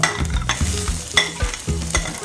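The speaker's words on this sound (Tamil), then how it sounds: "பச்சை மிளகாய், ஒரு பச்சை மிளகாய் லைட்டாக கிளறி விட்டுக்கோங்க" Green chili and onion fry in a pan, loud close sizzling broken by rhythmic spoon strokes scraping and knocking against the metal several times.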